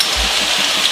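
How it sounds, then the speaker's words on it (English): Pasta water splashes into eggplant pesto pasta in a brief, close pour that gives a soft, rain-like hiss with a faint low thump near the start. "Then add a bit of pasta water"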